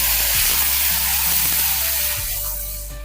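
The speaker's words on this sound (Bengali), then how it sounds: "এটা ভালো করে ভাজতে হবে কিছুক্ষণ" Mustard paste fries in hot oil with five-spice for a Bengali fish curry, giving a dense, loud, continuous sizzle and spatter with a few soft knocks of stirring, fading slightly toward the end.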